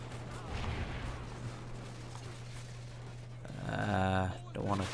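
Gunfire from the Call of Duty Ghosts video game, with rapid bursts of shots that grow louder near the end, under a player's voice.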